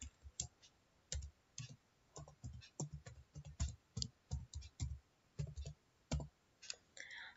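Quiet, irregular clicks of a computer keyboard as a password is typed, the keystrokes arriving in short bursts with brief pauses, close and fairly soft with no talking.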